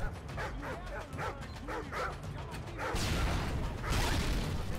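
Attack dogs in the video game Modern Warfare 2 bark in a quick run of sharp, fairly close barks, then the barking gives way to a louder whooshing burst of game noise.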